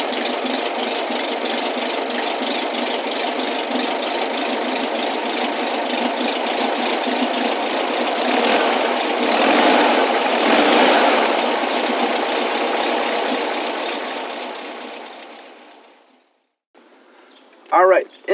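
A 1974 Volkswagen Beetle Limited Edition Sun Bug engine runs steadily and loud with a rattly, knocking air-cooled idle for about fifteen seconds, then cuts off into near silence before a brief final burst.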